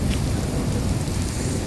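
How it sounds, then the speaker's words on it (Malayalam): Thunderstorm with heavy rain in Slovenia, a loud, continuous wash of rain with low rumbling thunder underneath, steady and close, with no voices. "നല്ല ഇടിയും മഴയാണ് ഗൈസ്"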